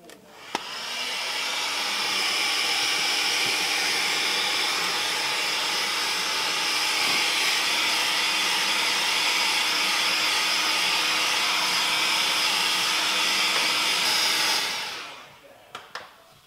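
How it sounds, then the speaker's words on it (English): Heat gun warming a plastic part on a VW Transporter during a hub and coilover modification, a loud, steady blowing hiss that runs unbroken for about fourteen seconds before cutting off. "Heat gun."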